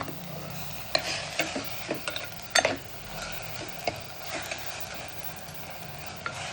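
Oyster mushrooms sautéing in a pan for a mushroom kurma, a soft steady sizzle with repeated scraping stirs and clinks, fairly quiet and close.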